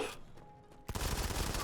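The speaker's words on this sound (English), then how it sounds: "bouncy bullets going off" Rapid bursts of video game gunfire in a PC multiplayer match with bouncing bullets, a loud dense crackle erupting after a brief quieter lead-in of scattered pops.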